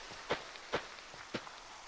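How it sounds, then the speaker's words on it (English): Rain falling in the video game Minecraft, heard as faint soft patter with a few sharper drip-like taps spaced irregularly across a quiet background, with no talking. "Hey, rain, that's good for the crops."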